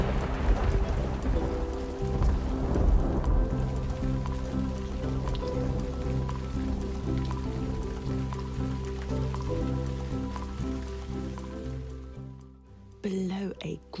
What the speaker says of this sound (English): From high in the sky came a loud roll of thunder.